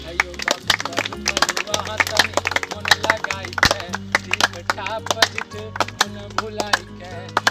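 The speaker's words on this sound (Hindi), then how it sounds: "हयो बाबू ताली बजाइए" Rhythmic hand claps keep time with a sung folk-style song backed by a steady bass line, sharp clap accents recurring through the music as the singing continues.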